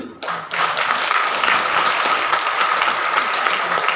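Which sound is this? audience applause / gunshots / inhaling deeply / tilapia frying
audience applause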